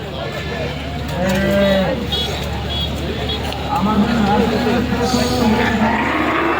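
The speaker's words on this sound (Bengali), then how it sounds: "গরু আছে অনেক গরু হাটে" Cattle at a busy cattle market before Eid al-Adha (Qurbani) mooing loudly nearby, two long low calls standing out over a steady crowd babble and people talking.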